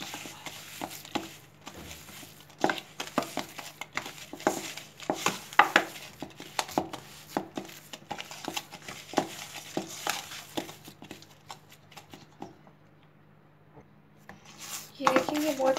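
Semolina (suji) dough for faara is worked by hand in a bowl, producing soft irregular stirring, slapping and rubbing clicks that continue steadily at close range, then ease off into near quiet at the end.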